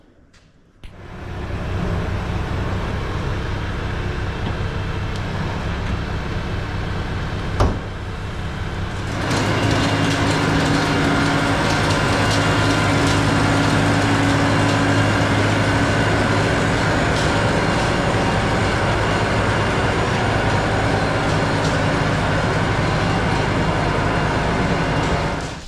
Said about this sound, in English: Now I'm gonna bring the tractor with the spreader in